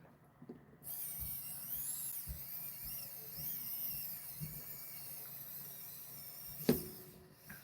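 A handheld power drill whirs with a high, continuous whine for several seconds while tightening hardware, ending with a sharp click and a brief stop, heard up close and quiet overall.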